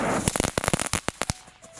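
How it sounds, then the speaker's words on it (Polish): A strobe firework with crackling effect goes off in a rapid burst of loud, dense pops and crackles, flashing in quick irregular succession close by with no talk over it. "Stroboskop z cracklingiem."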